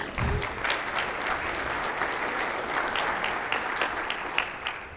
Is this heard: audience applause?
yes